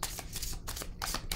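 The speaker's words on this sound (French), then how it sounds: "je vais piger une autre carte" Tarot cards being shuffled and drawn, heard up close as quick bursts of papery riffling and flicking that repeat steadily for a moment, with no talking.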